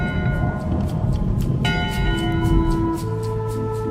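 A ship's bell rings out on deck in the pirate adventure game Return to Monkey Island, its bright metallic tones layered over a low, steady rumble of ambient noise and a sustained tone underneath.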